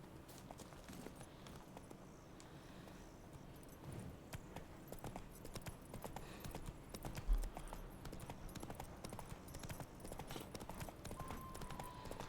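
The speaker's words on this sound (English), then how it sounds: "let's go ahead and call the horse" Roach, the horse in The Witcher 3: Wild Hunt, moves with a continuous run of faint hoof clops over a quiet game background.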